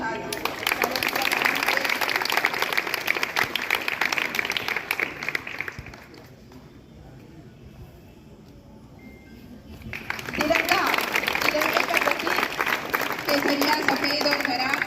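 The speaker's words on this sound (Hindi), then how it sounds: "जोरदार तालियों के साथ" A college Independence Day audience claps vigorously, fades to near quiet for a few seconds, then breaks into another sustained round of applause.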